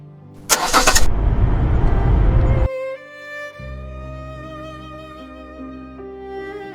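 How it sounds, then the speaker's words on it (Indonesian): A car approaching in an animated film: a loud, close engine roar lasts about two seconds, then gives way to sustained, steady tonal sounds with no speech. "Awas, Michelle, ada mobil."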